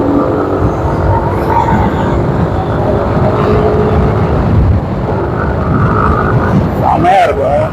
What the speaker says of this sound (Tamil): இந்த பைக்கோட பிக்கப் மட்டும் காட்டுற பாருங்க.